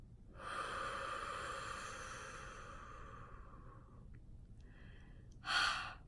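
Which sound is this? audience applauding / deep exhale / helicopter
deep exhale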